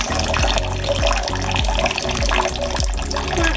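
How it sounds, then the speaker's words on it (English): Hot water is poured into a bucket for hair washing, producing a continuous close splashing and gurgling fill sound with rhythmic sloshing pulses. "To speed things up a bit, we add this hot water."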